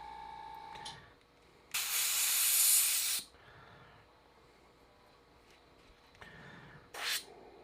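An Iwata Micron airbrush is flushed with sharp bursts of spraying air: one long loud hiss, a few softer puffs, then a short final blast, all close up with no speech.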